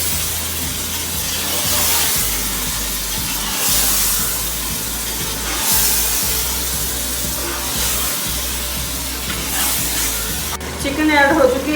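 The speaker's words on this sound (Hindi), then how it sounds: "चिकन ऐड हो चुकी है। अब हम इसको अच्छे से भूनते हैं।" Chicken being fried in a pan for biryani gives a steady, close sizzle with surging hiss, with brief stirring clatter near the end.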